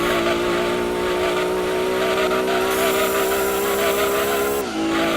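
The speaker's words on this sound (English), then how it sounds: "Oh my gosh, this car has got some stupid acceleration to it." A race car in Gran Turismo 2 accelerating hard, engine howling at a steady high pitch through the gears with a tire squeal, loud and continuous with no talk.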